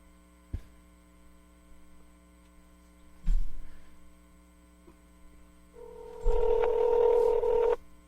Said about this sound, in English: Just go dial it up. Here, give it to me. Here, punch it, and then give it to me.